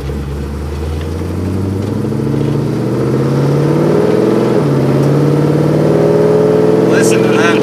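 A 1957 Chevrolet Bel Air restomod with a 383 stroker V8 revs and accelerates on a test drive, its deep engine note rising in pitch, dipping briefly, then climbing again, loud and close from inside the car.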